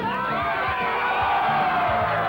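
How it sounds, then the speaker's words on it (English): A crowd cheering at a 1993 USHRA Monster Wars monster truck show in West Lebanon, a steady roar of many voices with whoops and shouts filling the arena, continuous and loud throughout. "this crowd is ready for the Monster Wars"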